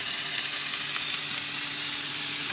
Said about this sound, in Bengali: এই যে দেখো তেল দিয়ে দিলাম আর এবার দিয়ে দেবো আমি এই যে আলু গাজর